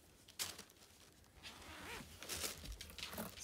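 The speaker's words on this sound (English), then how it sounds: "it zips up the back." A zipper running up the back of a knitted baby sweater decorated with little pink roses, heard as a short scratchy rip followed by several softer rasping pulls close up, with no voices.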